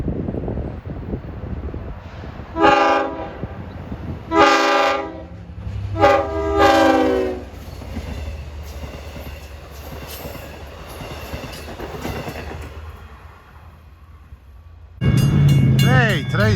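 An LIRR DE30AC diesel locomotive leads a Babylon–Patchogue train toward the Brentwood Road grade crossing, sounding several long horn blasts over a steady engine rumble as it approaches and passes, then a final loud horn burst close by.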